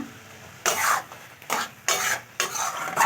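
Watermelon naru dough with crushed cardamom stirred in a pan: four distinct scraping strokes of a spatula against the metal, each a short rasping sweep, close and clear over a quiet background, with no speech.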